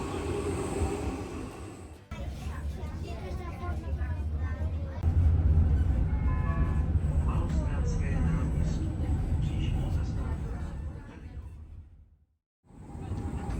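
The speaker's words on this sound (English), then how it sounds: "And here is our tram." A Prague city tram pulls in, with a low rumbling rolling noise and rising mechanical hum under street ambience. Voices are audible, and a brief cut near the end interrupts the sound.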